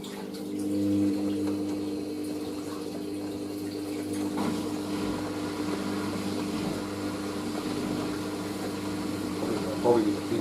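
A Hoover SIX AAA160 Whisper 1600 washing machine on its final spin with heavy items inside, giving a steady low motor hum and faint sloshing water throughout with a rising whine near the end.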